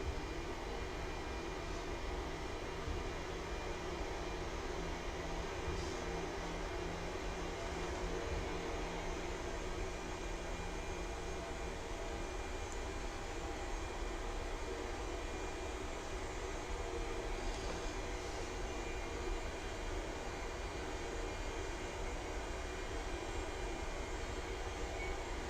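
PMDG 737-800 jet engines in a flight simulator, a steady broadband roar that holds constant for the whole stretch with no talking over it.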